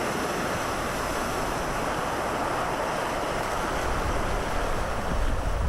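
A Land Rover off-road vehicle drives through water, producing a loud continuous rushing splash and surge with wind noise, steady throughout and growing slightly toward the end, no voices.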